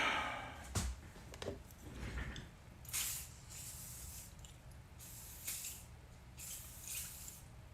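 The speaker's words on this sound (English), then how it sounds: "Let me spray this file down with some lube" Lubricant sprayed onto a metal file in a workshop, heard as several short hissing bursts with gaps between them, fairly faint against a quiet room.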